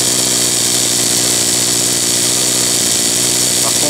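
A cheap gas-powered combination hedge trimmer and pole pruner runs steadily at a constant idle-like drone, loud and close, with no talk.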